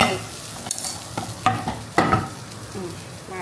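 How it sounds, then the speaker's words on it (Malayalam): Prawns frying in a hot pan hiss close by while a utensil stirs them in several distinct scraping strokes. "മാറ്റിയിട്ടൊന്ന് ഇളക്കി കൊടുക്കാം."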